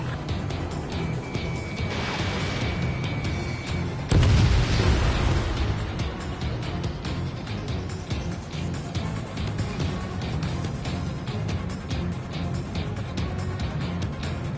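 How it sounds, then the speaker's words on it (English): Loud missile strike explosion in a PS4 video game: a heavy low boom bursts out midway, then rumbles and fades into a steady, busy game soundscape of engines and distant noise. "Missile away. Missile, strike!"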